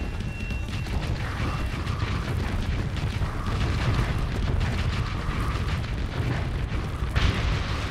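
Continuous booming explosions from a ship being destroyed in the space combat game Starsector, dense and loud throughout with rumbling low end and crackling bursts layered over one another, no talking.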